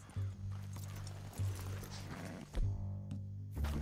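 Horse hooves clip-clop in a steady rhythm in Red Dead Redemption 2, with low rumbling in the background and no talking.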